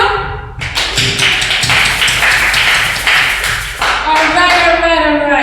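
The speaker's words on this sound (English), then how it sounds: "Can you clap for yourself?" A class audience at a music master class claps for themselves, a dense run of hand claps and taps that fills the whole stretch, loud and close, with a few voices mixed in.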